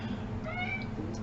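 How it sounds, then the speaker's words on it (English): A cat meows softly and briefly in the background of a quiet indoor room, a single faint drawn-out call. "And I see the cat's back for this session, so just ignore him."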